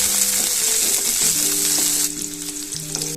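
Shallots, garlic and ginger sautéing in a pan give a strong, steady frying sizzle that eases slightly partway through, with a faint tonal hum underneath and no talk.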